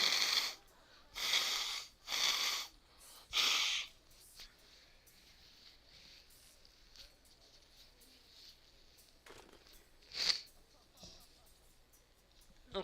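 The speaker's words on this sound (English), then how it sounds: "I still have to blow my nose a little bit every now and then." A person blows their nose in several quick, loud honking bursts close to the microphone, then goes quiet, followed by one last short blow near the end.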